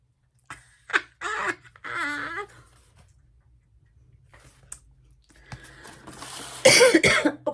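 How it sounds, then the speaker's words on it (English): One woman coughs several times in short, sharp bursts, then later gives a harsher, louder cough, with quiet clicks and near silence between them. "Oh, I'm going to cough, hang on."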